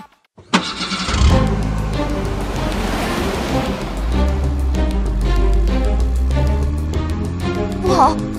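Animated super cars, led by a fire truck, roar off together: an engine revs up after a sharp start, then a sustained rumbling drive with layered tones over a continuous bed of noise.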